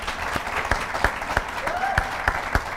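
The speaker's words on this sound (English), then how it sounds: "Big round of applause, ladies and gentlemen" An audience in the Cavan Crystal Hotel applauds the new Cavan ladies football management team, claps falling in an even, regular beat, fairly loud and close, with a brief tonal whine in the middle.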